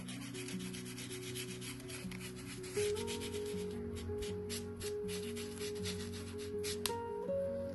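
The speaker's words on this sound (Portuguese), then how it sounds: "Você pode ir dando batidinhas ou passar também assim, ó, esfregar, pode, tá?" A damp sponge rubs and dabs paint across a biscuit clay (cold porcelain) box, giving a steady close scraping texture under sustained background music.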